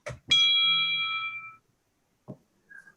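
A single clear bell ding rings out during a university board of trustees meeting, sustaining and fading over about a second, followed by a short knock and a faint high tone.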